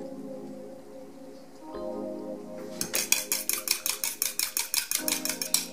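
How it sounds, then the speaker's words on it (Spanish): A vinaigrette of oil, salt and vinegar being mixed in a bowl, first a low rumbling hum, then a rapid run of about fifteen evenly spaced metallic clinks of a whisk or fork against the bowl, close and bright. "Acá voy a hacer la vinagreta, voy a echar 3 cucharadas de aceite, media cucharadita de sal y una cucharada de vinagre."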